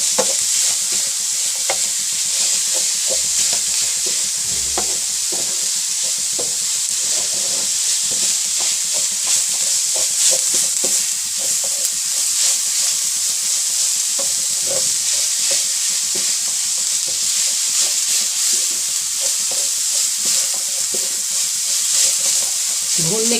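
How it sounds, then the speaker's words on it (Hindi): Radish filling for mooli paratha roasting in a pan on a low flame, a loud, steady close-up sizzle and hiss lasting throughout, with constant soft scraping and rustling from stirring. "इसको इस तरह अच्छी तरह भूनने आप धीमी आंच पे"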